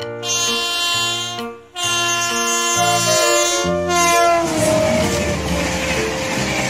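MRT Jakarta train sounding its horn in loud sustained blasts with a short gap, then rolling on with rising wheel noise and clatter.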